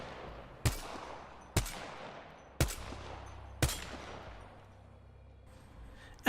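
Four sharp sniper rifle shots from Apex Legends, unscoped, each a loud crack with a long decaying tail, spaced roughly a second apart, followed by a quieter mechanical click near the end.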